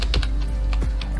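The F5 key and other keys pressed on a computer keyboard while setting up a Minecraft-style game in Unreal Engine 4: several crisp, close clicks in an uneven rhythm over a steady low hum.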